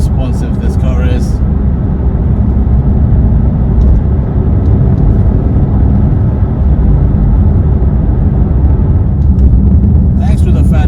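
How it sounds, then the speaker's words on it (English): A 2025 Mercedes-AMG GT63 Coupe on the highway, its fat tires giving a loud, constant rolling roar with engine hum, steady throughout, with brief voice fragments at the start and end. "there is a bit of rolling noise, mainly from the tires"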